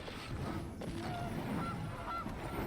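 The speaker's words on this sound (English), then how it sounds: "Honk honk." A goose honking sound effect plays in a digital card game, a few short nasal honks spaced across the moment over a quiet game background.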